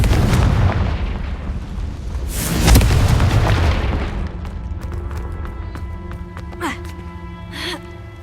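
Confringo fire spell blast in the Hogwarts Legacy video game, a loud, booming explosion with a rumbling tail that fades into softer game effects.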